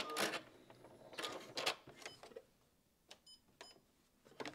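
A home sewing machine stitching a baby quilt at standard stitch length, running in short irregular bursts of whirring separated by brief pauses, close and fairly quiet, with no talking.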